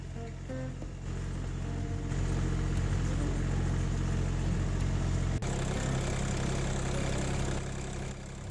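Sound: vehicle engine driving in fourth gear, all-wheel drive

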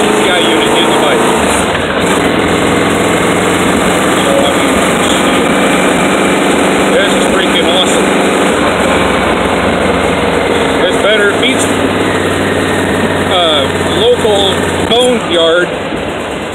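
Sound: motorcycle engine running after startup with aftermarket TCI unit

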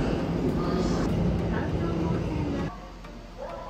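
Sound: Tokyo Metro Ginza Line subway train

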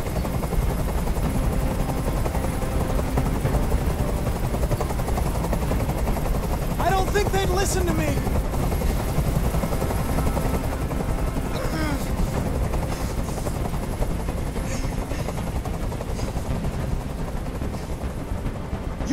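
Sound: helicopter hovering overhead in the video game Detroit: Become Human

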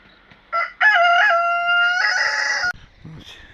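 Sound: chickens clucking, rooster crowing

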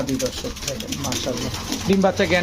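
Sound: racer pigeons cooing

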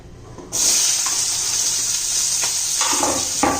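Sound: onion sautéing in a pan for amti

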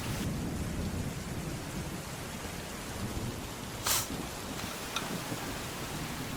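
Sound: rain with thunder

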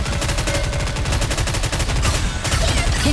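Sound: gunfire in the video game NIKKE

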